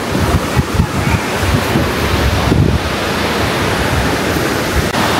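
Rushing water from the Grojogan Sewu waterfall in Tawangmangu on the slopes of Mount Lawu, heard from below as a loud, steady broadband roar with wind buffeting the microphone.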